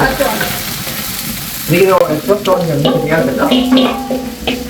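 Black pepper frying in a hot pan in a home kitchen, a steady sizzle with stirring clatter running through the clip, with a voice speaking over the middle and later part.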